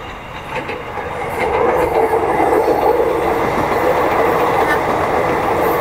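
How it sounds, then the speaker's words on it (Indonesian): A feeder train rolls past a railway crossing near a flyover at Ciroyom, a steady loud rumble of wheels on rails with faint clickety-clack. It builds slightly in the first seconds and then holds at full strength. "Akan ada kereta api yang melintas."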